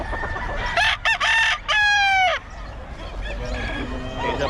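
A Pumpkin Sweater gamefowl stag rooster crows close by, a loud broken cock-a-doodle-doo in several rising and falling segments, followed by softer clucking and faint voices at the end.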